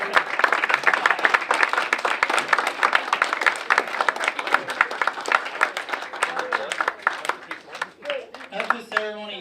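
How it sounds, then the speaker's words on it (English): An audience at an Eagle Scout Court of Honor ceremony applauds the newest Eagle Scouts with dense, sustained clapping and some cheering that gradually thins out toward the end. "Let us give our newest Eagle Scouts one more round of applause and a bully cheer."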